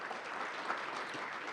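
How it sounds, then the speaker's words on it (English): An audience applauds together at a campaign launch event for a national monument, with a steady, dense clapping that holds at an even level throughout and no voices over it. "Let's give them a round of applause"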